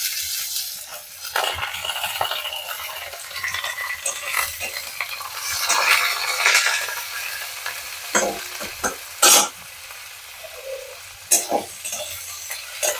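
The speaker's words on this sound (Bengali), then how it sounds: "গাজরটা একটু নেড়ে চেড়ে একে একে সবগুলোই দেব, দিয়ে ভালো করে ভেজে নেব" Carrots being stirred and fried in a pan for a winter vegetable dumpling filling, a sizzle broken by repeated scraping and clinking of a utensil against the pan, with sharp clanks here and there.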